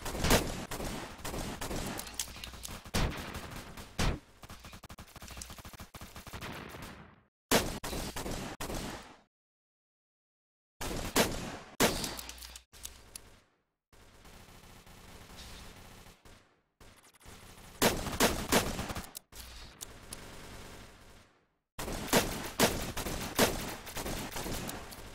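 Gunfire in a competitive video game arrives in loud, sharp bursts of rapid shots separated by brief silences. The shots repeat close and punchy across the whole stretch.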